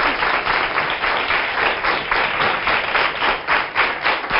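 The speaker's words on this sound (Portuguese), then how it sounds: "Um aplauso para o meu convidado." A studio audience on a Portuguese TV talk show claps for an arriving guest, steady dense applause, loud and close, alone without talk.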